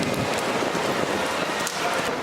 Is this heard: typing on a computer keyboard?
no